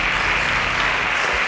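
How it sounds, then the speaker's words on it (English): Studio audience at a quiz show semi-final applauds finalists as they exit, a short burst of dense, even clapping with no pauses. "Please a round of applause for them as they exit"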